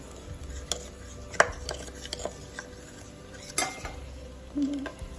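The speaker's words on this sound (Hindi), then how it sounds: "इसकी एक थिक सी पेस्ट बनाएंगे और बहुत अच्छे से इसको मिक्स करना है ताकि कोई लम्ब ना रह जाए इसमें" Chilli chicken batter being mixed into a thick paste in a bowl: scattered utensil clicks and taps against the bowl, with soft scraping stirs in between, close by and moderately quiet, with no speech.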